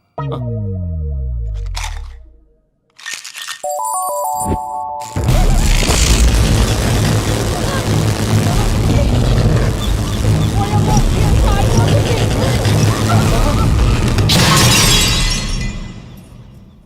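Stage lights burst in a Telugu comedy film scene: a loud boom and shattering glass, then a long, dense crackling crash that fades out near the end.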